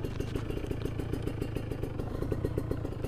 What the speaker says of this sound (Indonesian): Ini untuk nyalain pun cuma 1 kali selah udah bisa nyala.